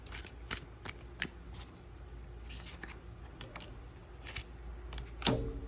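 A deck of cards shuffled by hand, with a quick series of crisp riffling bursts and snaps, close and fairly quiet, ending in a louder flick.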